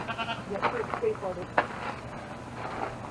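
A few short bleats from goats cut through nearby chatter and outdoor background noise at Chippokes State Park.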